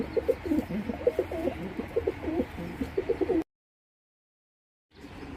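Pigeons coo in a steady rippling chorus of low throaty calls, close and continuous, then the sound cuts to silence before faint cooing resumes at the end.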